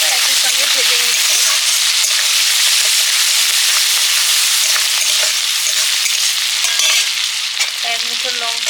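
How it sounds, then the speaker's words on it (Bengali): Shrimp frying in a pan with turmeric, a loud dense sizzling roar that holds steady throughout, close up, with brief faint voice sounds underneath. "চিংড়ি মাছগুলো একই সঙ্গে ভেজে নিচ্ছি।"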